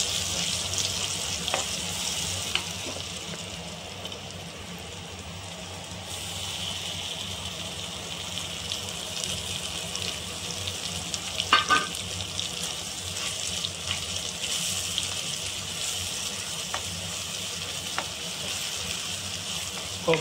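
Coconut and spices fry in a pan while being stirred, giving a continuous soft sizzle with scattered scraping clicks and a watery hiss, close and moderately quiet.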